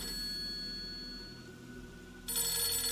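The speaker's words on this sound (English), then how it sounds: "Let's answer that phone downstairs." A telephone rings inside the Fatal Frame 3 horror video game, a steady electronic bell tone with sustained high ringing that swells louder near the end over a droning low background.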